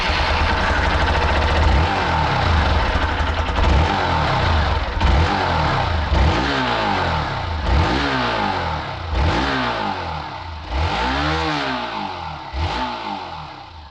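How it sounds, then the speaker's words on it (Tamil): A Hero Xpulse 200 4V motorcycle engine idles and then revs repeatedly through its exhaust, each loud throttle blip rising and falling in a steady rhythm, heard close with no talking. "Xpulse 204Vயோட எக்ஸாஸ்ட் சவுண்ட் எப்படி இருக்குன்றதை பார்த்துடலாம்"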